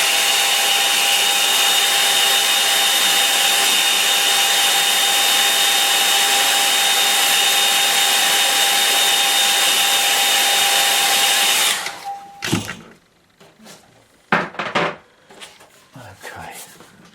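A hair dryer blows steadily on a painting of a lakeside scene, a loud continuous whirring hum with a whine, then cuts off, leaving scattered knocks and handling noises.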